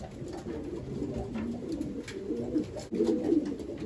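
Racing pigeon cock cooing repeatedly in a loft, soft rhythmic throaty coos close by, with other birds faintly around and no talk.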